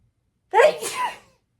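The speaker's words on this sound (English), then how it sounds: "Oh, and I don't, but I gotta sneeze." A single sharp sneeze bursts out close by, with a quick intake and a loud exhale, then silence.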